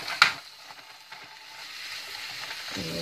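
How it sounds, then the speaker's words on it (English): Garlic and zucchini sauté in a hot pan, giving a soft, steady sizzle that runs throughout, with one sharp utensil clack near the start and faint clinks later. "And we will let that saute"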